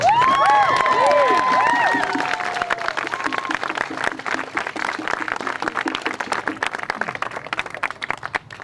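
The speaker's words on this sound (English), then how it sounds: "So please give yourselves an applause and thank you for coming." Enthusiastic crowd at a political rally, loud cheers and whoops over the first couple of seconds giving way to rhythmic, sustained clapping that continues steadily to the end.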